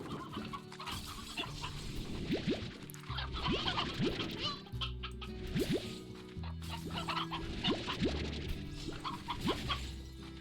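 Hens in a farming video game cluck in quick, repeated bursts over a steady music bed, the calls recurring across the whole stretch at close, moderate volume.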